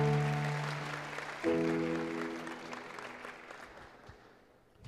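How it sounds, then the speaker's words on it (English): An audience at a Telugu regional youth fest claps in a sustained round that slowly fades, with a sustained musical chord ringing underneath and a fresh swell partway through. "Claps కొడదామా గట్టిగా."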